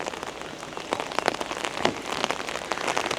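Steady rain pattering on surfaces around a homestead where chickens live outdoors, a dense close hiss with scattered louder drops, alone without voices.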